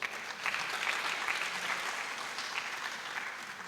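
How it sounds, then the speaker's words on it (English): Audience applause for student debate speakers at an East African Community regional integration debate, a soft, steady hall-wide patter of many hands, fairly distant and even throughout with no talking over it. "Let's give them a round of applause"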